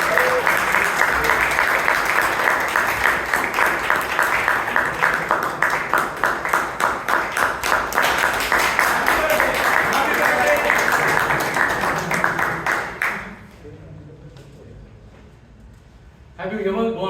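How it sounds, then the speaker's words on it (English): A Toastmasters club audience in Bangalore gives a speaker a long round of applause: dense, steady clapping for about thirteen seconds that then drops away to quiet room tone, with a brief rise at the very end. "Let's have a big round of applause."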